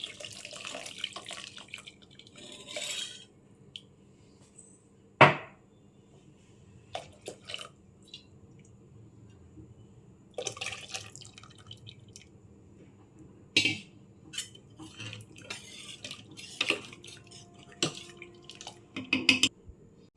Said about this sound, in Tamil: இப்போ இந்த நம்ம தண்ணி இருத்தோம் பார்த்தீங்களா இதிலே ஊற்றிடலாம்